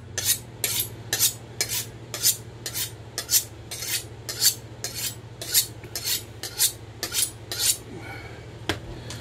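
A kitchen knife blade is honed on a sharpening steel, giving about a dozen crisp, evenly spaced metallic swipes at a steady rhythm over a low background hum.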